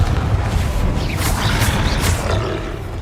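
Confringo explosive spell blast in Hogwarts Legacy combat, a loud, deep rumbling boom with a roaring tail that fades gradually over a few seconds.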